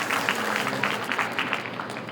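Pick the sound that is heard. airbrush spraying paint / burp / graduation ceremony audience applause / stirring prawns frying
graduation ceremony audience applause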